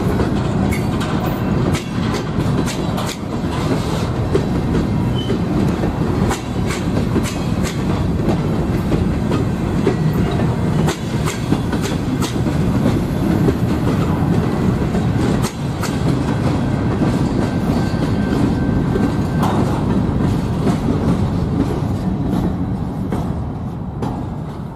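A BNSF freight train led by a GP39M and a GP60 locomotive rolls past a coach yard in Aurora, Illinois, with loud continuous wheel rumble and steady clickety-clack of railcars passing close by.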